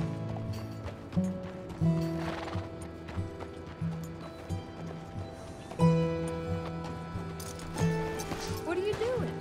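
A horse's hooves clop in slow, evenly spaced steps in the video game Red Dead Redemption 2, accompanied by creaking tack and faint ratcheting sounds while the horse is hitched, at moderate volume.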